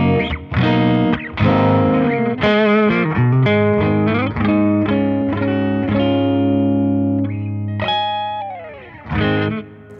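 An electric guitar played through a Fender Mustang Micro Plus headphone amp on a '65 spring reverb preset rings out in sustained, slightly driven notes and chords with a bouncy reverb tail, loud and alone.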